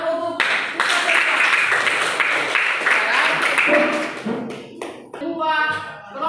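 Classroom clapping after student group presentations, a burst of scattered hand claps from a class of children that tapers toward the end, with voices of kids and a teacher talking over the last part.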